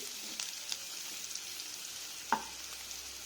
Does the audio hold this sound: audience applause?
no